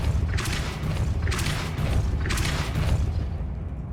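Three Depulso force spells from Hogwarts Legacy hit in quick succession, each a bright whooshing burst over a steady low rumble, evenly spaced and loud, with no talking.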